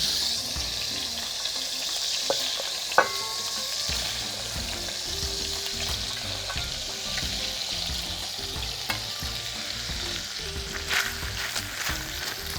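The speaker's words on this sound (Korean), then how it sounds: "노릇한 색이 날 때까지만 볶아줄게요" Mushrooms fry in sesame oil with a continuous close sizzle and stir, while a few light clinks and taps sound now and then.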